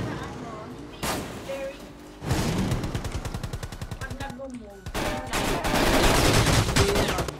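Rapid gunfire from the mobile battle royale game Rules of Survival, with bursts of automatic shots and separate single cracks at close range, mixed with game effects while people talk throughout.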